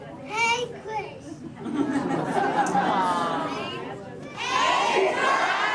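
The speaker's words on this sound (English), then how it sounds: "everybody else, scream out, hey Crush" A theme park crowd with many children shouts a greeting in unison at a Disney show, a loud swell of excited voices over general chatter, rising again near the end.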